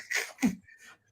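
A single sharp sneeze with a short intake before it and a brief breathy trail, close and fairly quiet in an otherwise silent room.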